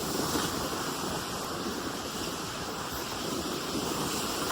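Lake water laps steadily at the shore in a continuous soft wash of noise, with no distinct breaks and light wind noise over the microphone.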